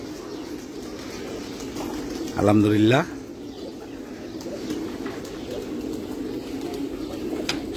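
A pigeon coos in a loft: a single loud, rolling coo of about half a second stands out from a steady background murmur, and a voice speaks briefly.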